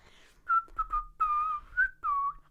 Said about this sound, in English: I want to learn how to whistle